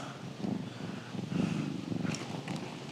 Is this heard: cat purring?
yes